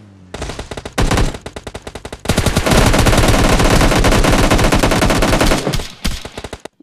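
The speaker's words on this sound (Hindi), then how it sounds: "सामने की तरफ से फायरिंग के साउंड आ रहे थे" Loud gunfire from a shooting video game, first a few separated bursts, then a long sustained automatic volley of rapid shots that trails off into scattered final rounds.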